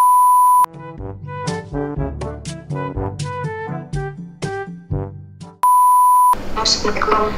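A phone call's ringing tone sounds as a steady electronic beep at the start and again near the end, with a cheerful melody of tones playing in between.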